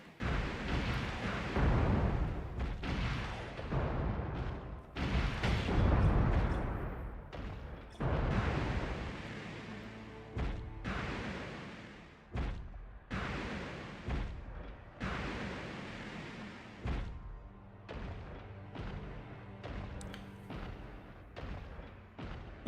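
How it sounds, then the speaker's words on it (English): Underwater torpedo launcher in the Mecha video game firing a long series of heavy booming bursts, loud and close, with muffled rumbling blasts spaced irregularly and no talk. "Some kind of torpedo launcher, I guess."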